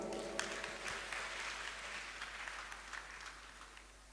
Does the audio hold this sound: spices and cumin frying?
no